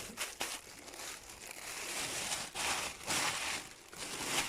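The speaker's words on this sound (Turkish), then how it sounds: "üstüne güzel temiz bir kullanılmamış çöp poşetini" A clean, unused plastic garbage bag is crinkled and pressed down over homemade tarhana dough, giving close, continuous rustling with brief sharper crackles throughout.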